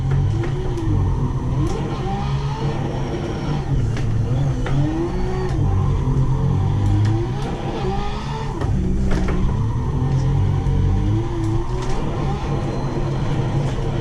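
A 1000 hp Holden Commodore fitted with a Ferrari engine drifts on cold tires up tight mountain roads in a video game, its engine droning and revving loudly and continuously with shifting pitch, no voices over it.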